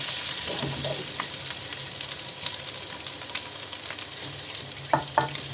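Eggs frying in a pan of oil for a traditional egg and potato curry, a steady sizzle running throughout with a few sharp crackles and pops near the end.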